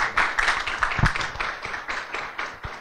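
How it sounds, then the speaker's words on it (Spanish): An audience claps for a lecturer taking the stage at a morning structural engineering talk, a dense steady patter of many hands across the whole stretch, moderately loud and continuous. "Por favor, un aplauso para el doctor Amador Terán."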